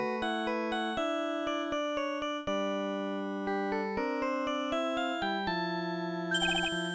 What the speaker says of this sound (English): What kind of ringtone is that?